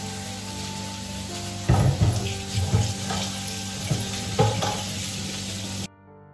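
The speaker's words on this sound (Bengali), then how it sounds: "সজনে শাকটা ভাজা করে নেব" Drumstick leaves frying in a pan with nigella seeds, garlic and green chillies, giving sharp sizzling bursts and stirring over a steady background hiss that cuts off abruptly at the end.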